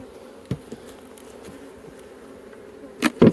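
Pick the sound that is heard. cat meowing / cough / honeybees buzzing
honeybees buzzing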